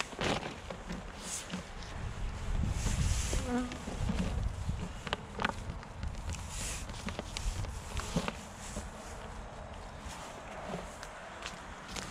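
Honeybees buzz around an open beehive in a garden apiary during a hive inspection, a close, constant drone with intermittent handling knocks and shuffling sounds.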